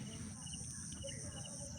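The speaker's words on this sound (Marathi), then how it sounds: "रातकिडा जो ओरडतो आहे तो थोड्या वेळाने ओरडत आहे." Crickets chirp faintly and continuously against a quiet outdoor night background.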